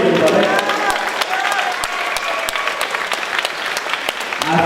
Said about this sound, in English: let's have one more round of applause for these two young warriors, everybody.